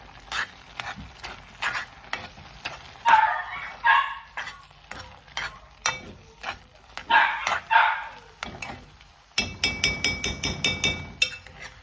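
A dog outdoors in Jamaica, being fed cornmeal cooked with chicken, gives a few short bursts of barking mixed with scraping and clattering of a feeding pot, ending in a quick rattling run. No one speaks.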